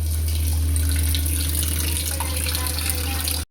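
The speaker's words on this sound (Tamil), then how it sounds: "இப்போ வந்து தண்ணி பிடிச்சிக்கலாம்." Tap water runs steadily into a container in a home kitchen during Pongal preparations, a continuous loud rushing stream with no talking, cut off abruptly at the end.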